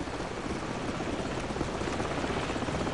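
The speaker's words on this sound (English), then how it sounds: "Hold on, the helicopter's back." Helicopter in Call of Duty 4: Modern Warfare, a continuous loud rotor roar and engine wash with a fast pulsing beat, holding close and steady throughout with no talk.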